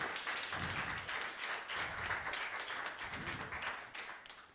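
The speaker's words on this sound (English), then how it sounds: "Let's give a round of applause for Mwihaki" Faint, scattered audience clapping greets a panelist at a media and technology panel discussion, a quiet continuous patter of hands that thins toward the end.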